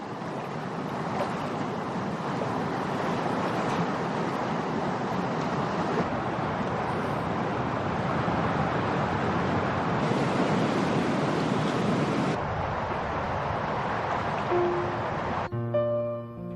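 A mountain river rushes through a gorge in León, Spain, making a loud, continuous broadband roar of flowing water close by that never lets up, with no talk over it.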